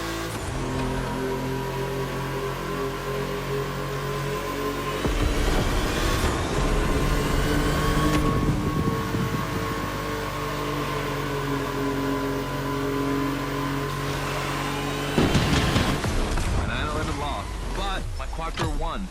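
Car engine revving hard in The Crew Motorfest racing game, loud and sustained with rising surges, mixed with game sounds and music throughout, while a person talks over it.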